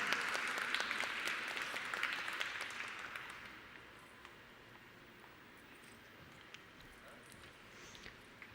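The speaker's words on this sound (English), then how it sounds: "Round of applause" Audience at the Design Way design awards claps for a mobile app nominee, a lively burst of applause that thins out after about three seconds into a quiet hall with occasional isolated claps.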